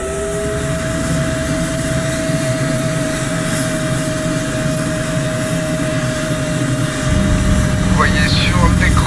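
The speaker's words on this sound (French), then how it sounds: "Vous entendrez ce bruit caractéristique, une sorte de sifflement, qui monte en intensité avant le démarrage des 2 réacteurs M88" Twin M88 jet engines of a Rafale Marine in MSFS 2024 spool up with a steady whine and rising roar, growing louder toward the end while someone talks over it.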